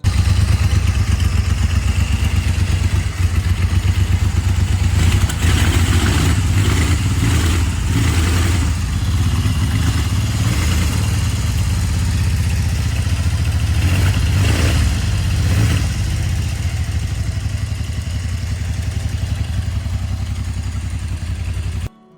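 A vintage British triple motorcycle engine runs steadily for the whole stretch, a loud, close, continuous low mechanical drone with clattery texture and a few mild swells in revs, and no voices.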